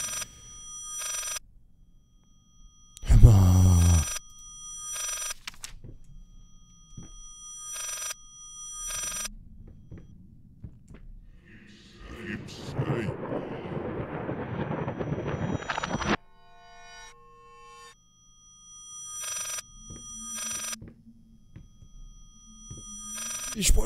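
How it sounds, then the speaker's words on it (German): An old-style telephone bell rings repeatedly inside the horror video game Layers of Fear, bursts spaced regularly across the scene between eerie creaks, a rumbling noise passage and a brief voice. "Ist das Telefon hier oder ist das für ein Gebums?"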